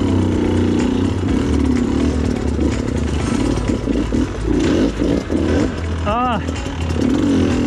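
Enduro motorcycle engine on a jungle cross-training course, clutch being slipped constantly, revving and clattering loudly up close with a rider's brief exclamation over it.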